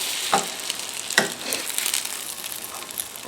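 French toast sizzles in butter in a pan, a constant close frying hiss broken by a few sharp scrapes and clicks as it is moved around.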